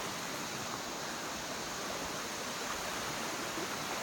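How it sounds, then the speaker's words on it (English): A river on a hiking trail in Costa Rica rushes steadily with a broad, even hiss of flowing water, close and constant throughout, with no voices. "Look at this river."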